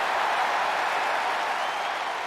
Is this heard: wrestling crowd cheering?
yes